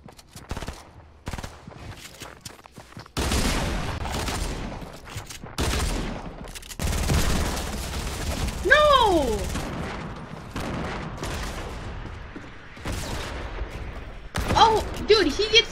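Pistol gunfire in a first-person shooter video game during a pistol-only challenge, heard as repeated sharp shots in bursts across the clip, mixed with other game sounds.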